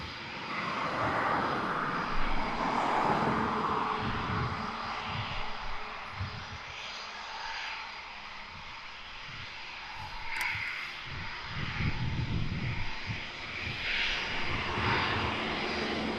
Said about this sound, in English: Typhoon 2 ship waiting for permission to depart.